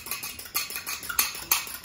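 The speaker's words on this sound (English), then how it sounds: "whisk, whisk, whisk, whisk." A fork whisking egg wash for salmon en croute pastry, sounding as quick, light metallic clicks and scrapes against a bowl in an irregular rhythm, close and fairly quiet.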